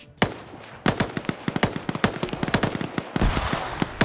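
Handgun fire in a video game match cracks out in rapid, irregular shots, each one a loud, sharp report, with dense bursts and brief gaps between them.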